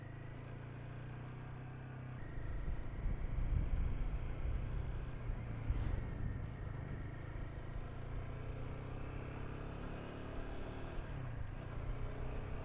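A Himalayan 450 motorcycle cruising on a highway, its steady engine drone and road rumble running continuously and close, swelling slightly early on, with no talk.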